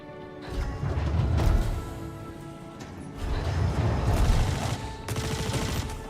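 Rapid bursts of gunfire in the space shooter game Star Citizen, dense and sustained for long stretches with a brief lull midway, loud and close over a busy game soundscape.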